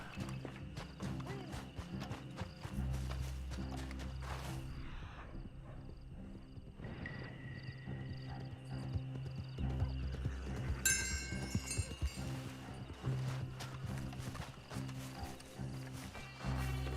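A horse in the Red Dead Online video game gallops with quick clip-clop hoofbeats and gives a whinny partway through. Game ambience and music sit underneath, and the whole stretch stays fairly quiet.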